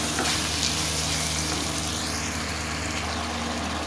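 Tomatoes and green chillies fry in a masala for dhaba-style daal mash, a loud continuous close sizzle with faint stirring, heard alone without talk.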